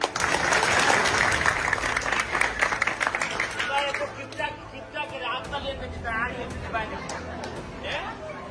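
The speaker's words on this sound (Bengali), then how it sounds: "এত যে ব্রিজ বানাইলাম, একটা হাততালি দিতাই না নি?" A local crowd gathered around a politician breaks into loud clapping that tapers into scattered claps, with people talking and excited voices rising over the fading applause.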